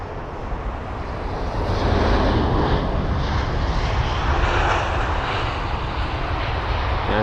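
An Airbus A319 airliner arriving from Basel lands at London Heathrow, a steady, loud broadband roar of jet engines that swells after the first second and holds unbroken, with no voices over it.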